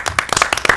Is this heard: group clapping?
yes